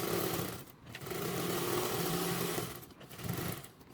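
A sewing machine topstitches a seam on a convertible duffle bag, running in quick continuous bursts of rapid mechanical stitching, close and moderately loud, with two short pauses between runs.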